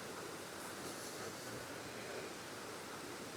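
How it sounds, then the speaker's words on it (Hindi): A full-flowing mountain waterfall beside a landslide-blocked road in Nagaland, heard as a steady, dense roar of rushing water with no breaks, fairly faint and continuous throughout. "सामने से ये पूरा झरना अभी फुल बहाव पे है"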